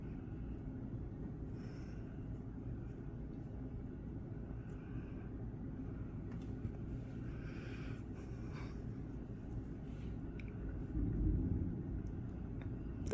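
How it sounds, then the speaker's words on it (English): Low, continuous thunder rumbling through a thunderstorm with gusty winds and heavy rain, a steady deep roar that swells louder near the end. "That's the nasty thunder."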